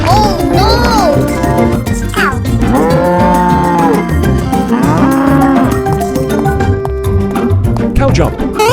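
A cartoon cow moos in long, bellowing calls over bright, busy children's music with jingling tones, loud and up front throughout.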